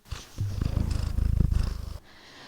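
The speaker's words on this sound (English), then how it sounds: "Can you purr to the microphone?" A cat purrs close to the microphone, a low rhythmic rumble pulsing steadily for about two seconds before stopping.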